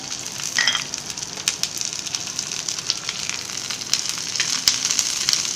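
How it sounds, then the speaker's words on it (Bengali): Green chilies frying in a little oil in a pan, a steady close sizzle with scattered crackles and pops throughout, no talking. "এখন আমি মরিচগুলো ভেজে নেব"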